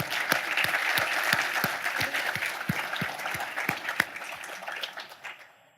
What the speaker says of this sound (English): Can we take a second to just give a round of applause to our leaders who are moving up?